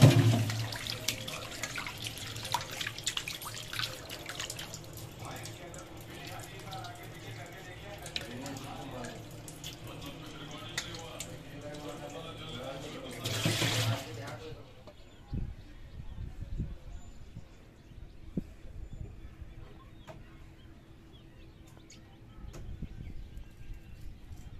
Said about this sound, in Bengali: এবার মাছটা আমরা ধুয়ে নেব।